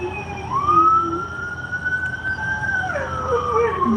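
A siren wails in a long rising and falling tone, fairly close, with a second wavering pitch joining near the end over low traffic rumble.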